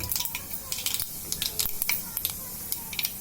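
Cumin seeds sizzle and crackle in hot oil in a wok that already holds mustard seeds, while cauliflower bhaji is being cooked. Close, steady frying hiss with scattered sharp pops throughout.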